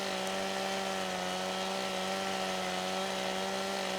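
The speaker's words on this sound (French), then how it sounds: "C'est celui-ci qui va prendre un coup de tronçonneuse." A chainsaw in the farming game Farming Simulator 15 runs while cutting a tree, giving a steady, loud, unbroken engine drone held at an even pitch throughout.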